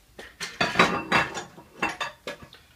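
A custard mixture is stirred in a pot over medium heat: a spoon scrapes and clinks against the pot in a steady rhythm of about eight close strokes, alone with no talk.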